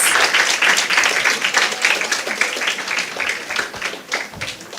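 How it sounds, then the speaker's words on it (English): An audience at a girls' action festival program applauds itself, bright, dense clapping that starts strong and gradually thins and softens toward the close. "I want you to give yourself a resounding round of applause"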